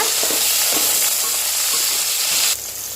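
Chopped onions and coriander leaves sizzle and crackle as they are stirred in a hot pan, a loud continuous frying hiss with faint scraping, dropping slightly in level near the end.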